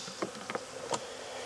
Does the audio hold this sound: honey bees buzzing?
yes